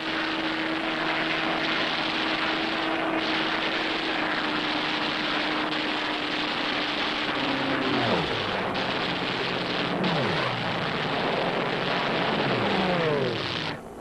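A World War II P-51 Mustang propeller fighter flies past with a steady droning engine roar that then drops sharply in pitch as it passes overhead, followed by more passes, loud and continuous.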